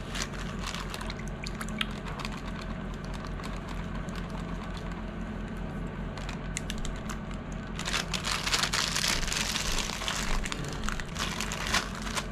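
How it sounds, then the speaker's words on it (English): About half a cup of water pours steadily into a cooking mixture with a soft splashing hiss, growing louder and fuller toward the end. "Alright, I'm gonna add like 1/2 cup of water."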